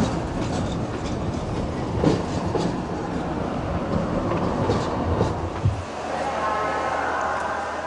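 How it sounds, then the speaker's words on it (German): A historic Hamburg-type express diesel railcar rolls through the track approaches of Leipzig main station in the 1990s, its steady clattering rumble close and continuous, with rail clicks and a brief squealing tone near the end. "Ein historischer Schnelltriebwagen der Bauart Hamburg rollt durchs Gleisvorfeld."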